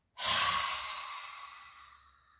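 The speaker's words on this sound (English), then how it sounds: "now I'm going to take a very deep breath, as deep as I can, and blow it all out" One long, forceful breath is blown out close to the mic, starting abruptly as a loud airy rush and fading slowly over about two seconds.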